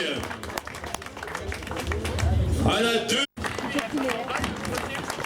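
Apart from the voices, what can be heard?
applause for a cyclist on the podium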